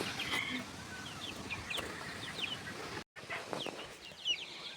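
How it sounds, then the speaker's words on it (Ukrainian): Two-week-old chicks running around a farmyard pen give soft clucks and chirps at moderate distance, with brief wing flaps and a short gap of silence partway through. "Ось, бачите, де курчатка бігають."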